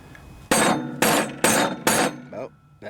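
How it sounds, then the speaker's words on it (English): Four loud, evenly spaced metal hammer blows strike a shaft on a junkyard Craftsman riding lawnmower with a 42-inch cutting deck, followed by a fainter fifth tap, each ringing briefly in a quiet workshop. "let's see if I can hammer that shaft out of there."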